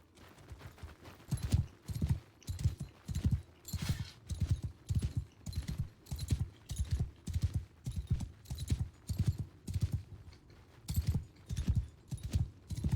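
Horse hooves clip-clop in the medieval battle game Mount & Blade II: Bannerlord, a steady rhythmic gallop of sharp, close impacts repeating throughout with no talk.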